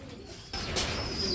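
Short-faced pigeons at a pigeon market, with a soft cooing that rises partway through over a steady background murmur, close by.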